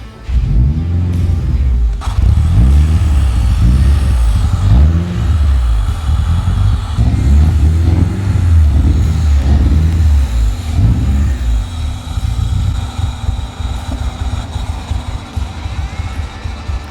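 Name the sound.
Toyota engine starting and revving in Volkswagen bus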